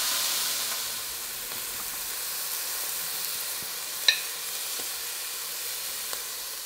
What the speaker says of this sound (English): you need to get the pan ripping hot and just put in a few pieces to make sure it stays hot